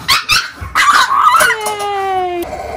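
Excited dogs whimper and yip in short bursts, then one lets out a long, wavering high howl, close and loud, with a brief human voice mixed in at the start.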